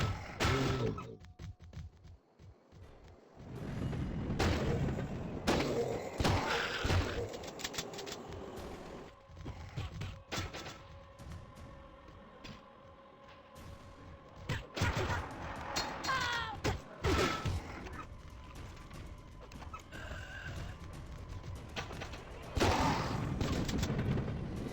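Gunfire rattles through a zombie video game, with machine-gun bursts and booming shots in dense, uneven volleys at moderate level, mixed with other game effects throughout.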